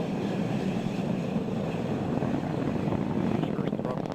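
An Atlas V rocket booster roars steadily during ascent on an NROL-35 launch, a dense, continuous rumble that stays loud and unbroken throughout.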